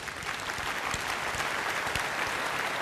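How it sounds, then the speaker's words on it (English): Steady audience applause fills a launch event for Malaysia's first OTT IPTV service at Berjaya Times Square, a dense, even wash of clapping from a crowd lasting throughout. "A round of applause, please."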